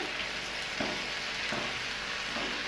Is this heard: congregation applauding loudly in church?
no